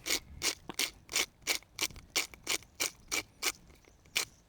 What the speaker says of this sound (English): I know I've got a super fancy pepper grinder right now